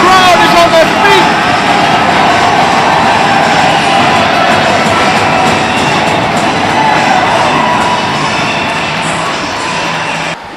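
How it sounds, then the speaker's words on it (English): Ice hockey crowd on their feet cheering at a Deeside Dragons versus Blackburn Eagles game, a steady loud roar of many voices filling the whole stretch, with announcer speech over it. "This crowd is on their feet."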